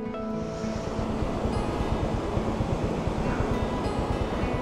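Strong water rushing over the overflowing Magsaysay Dam spillway in Camiling, Tarlac during La Niña, a steady, loud broadband roar with a low churning rumble, continuous throughout and with no voices.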